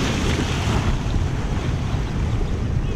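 Ocean waves surge and break along a rocky Malibu shoreline during a kayak surf launch, a steady loud wash of surf mixed with gusty wind rumbling on the microphone, with no voices.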